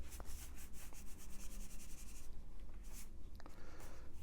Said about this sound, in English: I use my brush to take off the excess of dust.